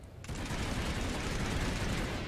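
An EM1 gun fires in PlanetSide 2 as a rapid, dense burst of automatic shots, loud and continuous after a split-second lead-in.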